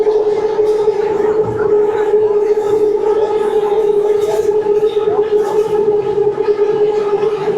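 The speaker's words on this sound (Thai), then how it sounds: "รถไฟฟ้าแล่นล่ะ" An elevated skytrain passing along its viaduct in central Bangkok near MBK: a loud, steady, continuous whine with a strong humming tone holding throughout, and voices in the background.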